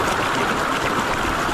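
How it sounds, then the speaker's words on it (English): Heavy waterfall flow on a creek, a loud, steady broadband rush of falling water that fills the whole clip without pause. "I've just been working my way up towards this waterfall. Quite heavy the flow"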